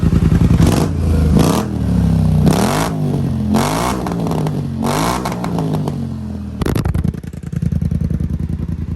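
A Polaris Scrambler 1000 ATV engine revs loudly and close, with repeated throttle blips rising and falling over a rough idle, then settles into a clattering idle near the end.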